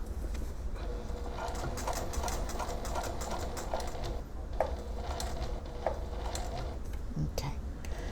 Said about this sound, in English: We're getting towards the end here, and I'm going to stop the stitching right there.